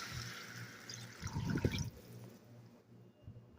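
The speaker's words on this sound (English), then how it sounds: "I'm going to add 6 cups of water." Water poured into a pot holding diced new potatoes, celery and onion for Boston clam chowder, a short splashing burst in the middle, faint and close, with quiet kitchen background before and after.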